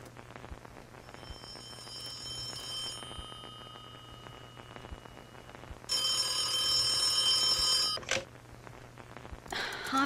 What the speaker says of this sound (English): Harvey Miller, do you ever answer your phone?